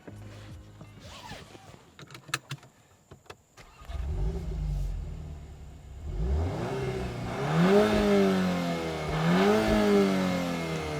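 A Volkswagen Golf R with a 2-litre engine starts and pulls away after a few clicks and thumps, then its revs climb and drop through gear changes, loud and close.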